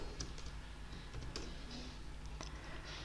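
Soft keyboard clicks as code is typed on a computer keyboard, a few scattered keystrokes at close range over a low steady hum.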